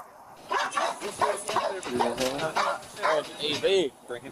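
An angry dog barks and yips repeatedly at close range during a police traffic stop, sharp bursts mixed with whining, heard under and between people talking.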